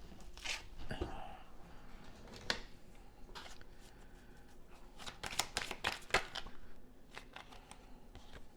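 A deck of tarot cards is shuffled up close, with repeated crisp riffles and slaps coming in bursts separated by quieter handling rustles.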